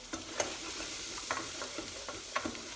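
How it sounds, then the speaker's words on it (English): Chopped onion, celery and carrot stirred in a pan with a spoon, a few scattered scraping strokes over a faint steady sizzle, close and fairly quiet. "Now I need to give it a stir."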